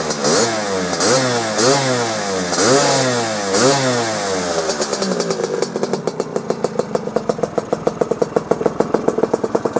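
A 1969 Lambretta GP125 two-stroke scooter engine runs loud and close, revving up and down in repeated swells before settling into a crisp, rapid popping idle.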